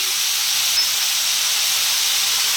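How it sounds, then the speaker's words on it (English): Fresh, juicy ripe tomatoes dropped into a hot curry pan raise a steady, loud hissing sizzle that holds evenly throughout without a break. "we're going to take our fresh tomatoes and drop them in"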